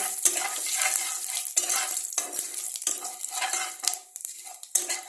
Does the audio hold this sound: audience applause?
no